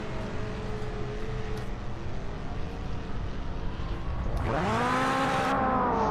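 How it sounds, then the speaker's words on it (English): In the racing video game Project Motor Racing, race car engines drone steadily with layered harmonic whines, then one engine sweeps up sharply in pitch as it revs hard near the end. "Listen to all that roar from those cars."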